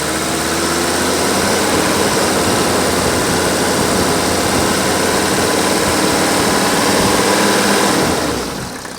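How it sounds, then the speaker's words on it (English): Engine of a 1983 Mercedes-Benz fitted with a replacement used engine, brought up off idle into a steady, smooth rev that holds loud and close before easing off at the end. "And now I'm going to bring it up off speed and listen how smooth this engine runs."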